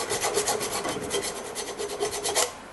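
Rust being scrubbed off front brake parts of a 2008 Toyota Highlander, a steady, close rasping scrape in quick repeated strokes throughout, with no talking.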